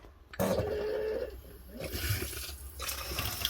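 A household water pump in an old building kicks on abruptly with a humming whine and rushing water, then settles into an uneven churning flow.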